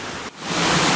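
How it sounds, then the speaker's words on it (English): The waterfall in The Narrows, a broad steady roar of falling water that briefly dips and then swells louder and closer, filling the whole clip. "we'll come out at the bottom of that waterfall I just showed you"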